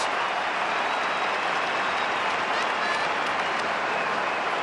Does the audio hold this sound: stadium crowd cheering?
yes